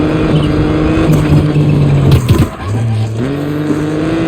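Rally car racing in the WRC Generations video game, its engine droning steadily near, then briefly cutting and dipping as it shifts before revving back up, loud and continuous.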